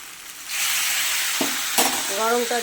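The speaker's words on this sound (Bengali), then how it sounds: "মাথাটা দিয়ে একটু কষিয়ে নেব।" Fish head sautéing in a hot pan for a potato and pointed gourd curry gives a steady close sizzle, with a couple of sharp scraping stirs toward the end.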